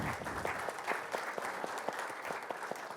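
Audience applause at a mobility forum panel session, a steady dense patter of many hands clapping throughout, fairly loud and even with no talking over it.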